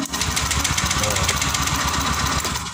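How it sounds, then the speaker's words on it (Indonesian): A motorcycle's electric starter cranks the engine in a repair shop, a steady, loud, rapid churning rhythm that continues throughout without firing up, with no voices. "Ini sudah double starter Pak ya."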